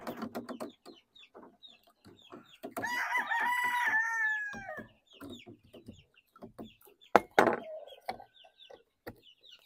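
Golden boy gamefowl roosters in a farmyard, one crowing loudly and clearly mid-clip amid scattered clucks and knocks, with another short crow near the end.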